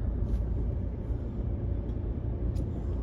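A car drives along a road, heard from inside as a steady low rumble of engine and tyres with a couple of faint high clicks.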